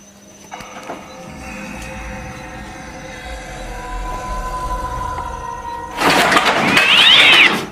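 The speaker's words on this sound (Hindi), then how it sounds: "फिर बिल्ली पुकारने की आवाज कैसे आई थी?" A drawn-out, wavering cat meow with strong tonal harmonics holds for several seconds, then gives way to a loud, harsh noisy burst like something clattering, in an indoor store room.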